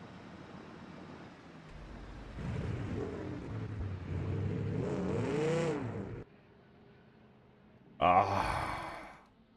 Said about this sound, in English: We're driving a manual drive car.